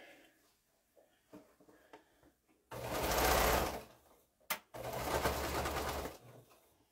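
A sewing machine running short straight quilt seams, two loud, steady bursts of motor whirr of a couple of seconds each, separated by a brief pause with a click, over faint background noise.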